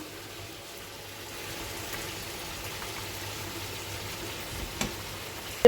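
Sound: fried Dorade fish cooking in sizzling curry sauce

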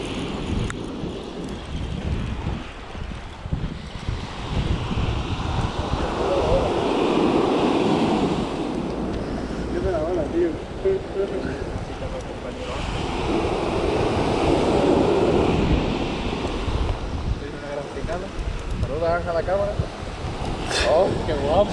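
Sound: ocean waves on the shore while surfcasting

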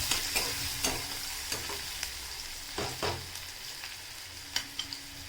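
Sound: onion sautéing in a pan

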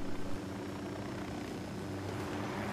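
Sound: helicopter in Ghost Recon Wildlands video game

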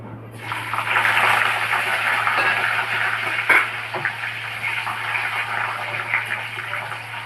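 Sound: chopped tomatoes frying in oil

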